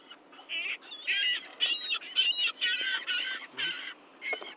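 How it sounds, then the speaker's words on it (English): Birds call loudly and repeatedly at close range in a rapid series of honking, goose-like squawks, separated by short gaps, with no clear wingbeats heard. "Birds everywhere."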